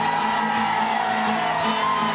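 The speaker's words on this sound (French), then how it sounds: "le pape fait son entrée sous les acclamations" A large crowd cheers and whoops as Pope Francis makes his entrance at an audience with the Neocatechumenal Way, a loud sustained roar of many voices with shouts rising out of it.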